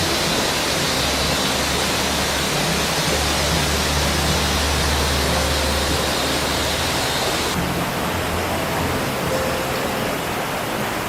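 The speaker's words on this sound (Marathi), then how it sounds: "उंच कड्यावरून कोसळणार ठेसाळ पाणी" A waterfall pouring from a high cliff at Paleshwar roars in a steady, dense rush of falling water, loud and unbroken from start to finish with no voices.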